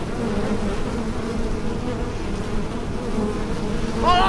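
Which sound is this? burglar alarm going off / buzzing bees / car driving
buzzing bees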